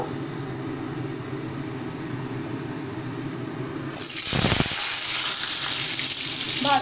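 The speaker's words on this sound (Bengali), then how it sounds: "আলুগুলোকে ভালোভাবে ভেজে নিতে হবে" Potatoes frying in oil sizzle quietly at first, then a louder burst of crackling hiss takes over partway through and continues to the end, close by with no talk.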